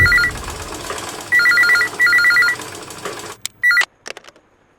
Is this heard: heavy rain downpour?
no